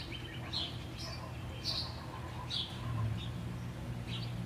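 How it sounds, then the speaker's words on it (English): Small birds chirp and tweet outdoors in brief high scattered calls, fairly faint against a steady low hum, with several chirps spread over a few seconds. "I may sit and be a little quiet to capture the bird sounds."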